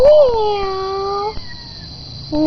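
A cat meows in a long, drawn-out wail that rises and then falls away, clear and close, with soft background noise and a short second call starting at the very end.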